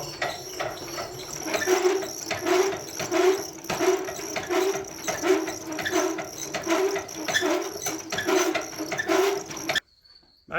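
A classic engine with its spark plugs removed cranks over steadily, giving a rhythmic, evenly spaced churning that runs close and loud for about ten seconds before cutting off abruptly.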